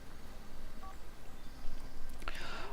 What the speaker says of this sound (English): Oh, Robin, don't play with your mobile phone.